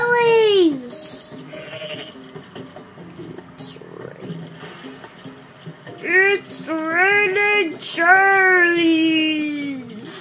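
Goats bleat in Goat Simulator, several wavering, drawn-out cries in quick succession, loud and close, mixed with some animated vocal sounds.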